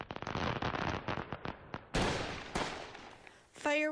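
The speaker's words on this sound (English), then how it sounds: "Fireworks are normally a sign of the 4th of July" Fireworks crackling and popping in rapid bursts near Fourth of July celebrations, dense irregular bangs followed by a few sharper louder blasts and a fading crackle.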